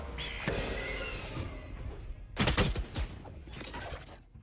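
Gunfire and other game effects sound in a Rainbow Six-style video game during a show match at an esports tournament, with rapid bursts of shots and a sharp flashbang-like crack over the background noise.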